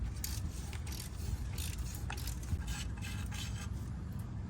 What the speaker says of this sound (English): Flex head ratchet wrenches are good for reasons just like this.